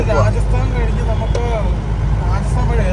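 Cabin of a moving vehicle on a road journey through Pakistan toward Europe, with a loud, constant low engine and road rumble throughout while people talk over it.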